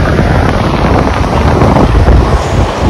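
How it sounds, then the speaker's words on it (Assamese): Strong wind buffets the microphone in a loud, continuous roar with gusting low rumble, outdoors in Dong valley, Arunachal Pradesh; no speech heard. "বতাহ ধেৰ মাৰিছে মাতটো কেনেকুৱা আহিছে নাজানো"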